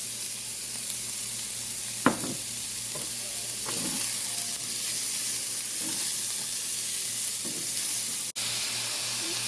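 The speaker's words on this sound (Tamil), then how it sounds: "வெட்டி வச்சிருக்கிற அஸ்பராகஸை இதோடு சேர்த்து வதங்க விடுவோம்" Cut asparagus sautéing with onions in a pan, a soft steady sizzle with a few scrapes and taps of a stirring spoon, close but fairly quiet.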